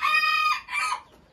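Chickens at a farm with a hatchery incubator, a close, loud drawn-out rooster crow followed by a short second call, no talk.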